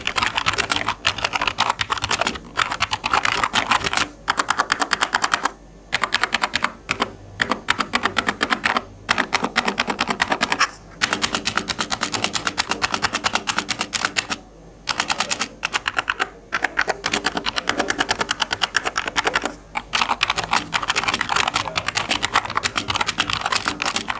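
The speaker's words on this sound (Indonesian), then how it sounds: "gua kasih SMR untuk typing test dari si keyboard NYK Aries K06 ini" Continuous fast typing on an NYK Aries K06 60% mechanical keyboard, with dense, crisp key clacks in a close, loud, steady stream and only a few brief pauses between bursts.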